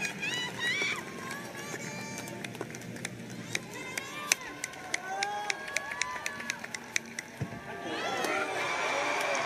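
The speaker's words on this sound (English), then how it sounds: "Crowd getting behind him right now." A crowd at an athletics meet rallies behind a long jumper, with rhythmic clapping and cheering building steadily at a distance, sharp claps punctuating the noise, and a commentator's voice running over it.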